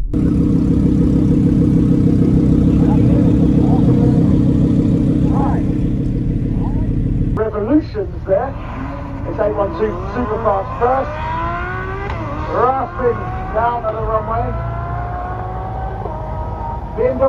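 A car accelerating hard down a runway at Supercar Fest: a steady loud engine drone gives way to rising, sweeping revs and gear changes, with voices talking over the noise.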